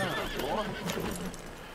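A horse in Red Dead Redemption 2 lets out a loud, close whinny lasting over a second, with faint hoof clatter underneath.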